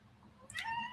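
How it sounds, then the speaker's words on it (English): A pet cat gives a single short meow, close and clear over a quiet room, rising near the end of the moment. "That's Gracie, my little kitty, who would love to come and talk to you"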